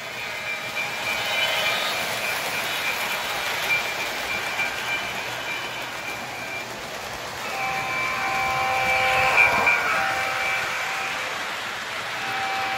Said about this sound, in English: Honk the Union Pacific horn, it's coming.